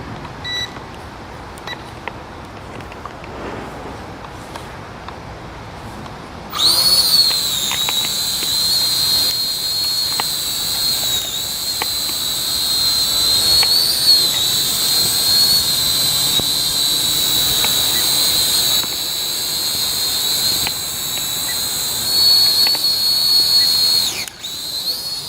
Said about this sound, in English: I'm gonna level out the quadcopter, and I'm gonna adjust the trim so that it